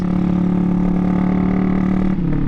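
A Honda Grom clone motorcycle's small single-cylinder engine holds a loud, steady high-idle drone up close, then dips slightly near the end.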